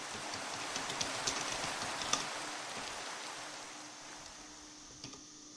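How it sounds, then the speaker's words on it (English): Steady rain falls on an island in a video game, a soft, even hiss with scattered faint droplet ticks running throughout at low level, with no voices. "And it rains so much on this island."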